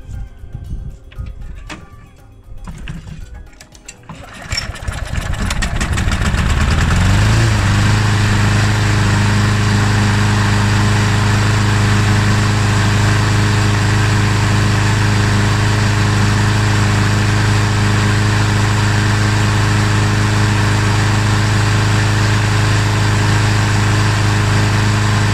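A Hayter Harrier 48 lawn mower's petrol engine sputters a few times, then catches and settles into a loud, steady running drone that continues without a break.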